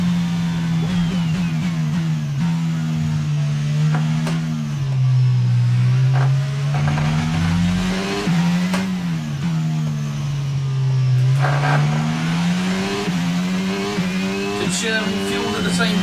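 Race cars in F1 22 on the Mexican GP circuit scream at high revs while one overtakes another, with the engine pitch rising and dropping through gear changes, loud and continuous, as a voice talks over it.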